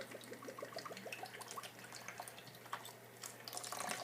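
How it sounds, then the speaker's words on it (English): Dirty oil draining out of a shock absorber body through its fill hole, a continuous light trickle and drip with small splashes close by, steady throughout with no talk. "We're just going to drain that nasty oil out."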